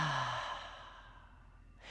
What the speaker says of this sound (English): Exhale out of the mouth.